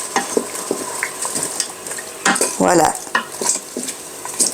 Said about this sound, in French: je suis en train de faire revenir champignons, oignons